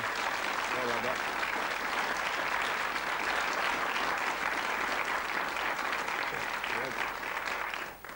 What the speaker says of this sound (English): you'll get a ripple of applause, I am sure.